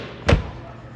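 The door of a Mercedes W113 shuts with a single short, solid thud, close by and brief, followed by quiet room tone.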